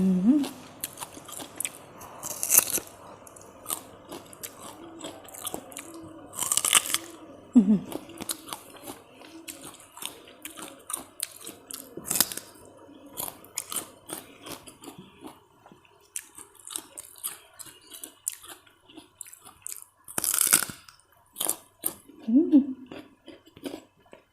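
A crunchy snack is chewed and bitten close up, with repeated crisp crunches and soft squishy bites in an irregular rhythm, broken by short bursts of voice.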